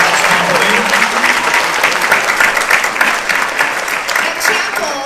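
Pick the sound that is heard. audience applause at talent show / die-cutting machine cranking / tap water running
audience applause at talent show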